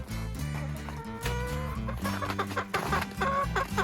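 Hens cluck and chatter together inside a chicken coop at a country dacha on a freezing day, a busy overlapping flock close to the microphone with steady low background noise.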